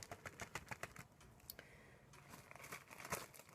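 A plastic bag crinkles and crackles as it is handled close up, with quick irregular rustles and snaps throughout.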